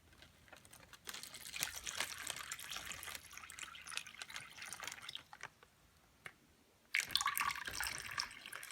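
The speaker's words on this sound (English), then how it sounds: "Open the bag, fill water to the appropriate line, and it's going to be 8 ounces for the coffee." Water runs into a plastic MRE bag for coffee in uneven pours and trickles with light crinkling, close and fairly quiet, pausing briefly before a stronger gush near the end.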